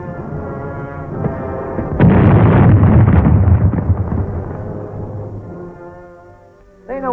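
A grenade bursts in a 1943 World War 2 training film, a loud sustained blast that rumbles and decays over several seconds between quieter stretches of tonal background sound.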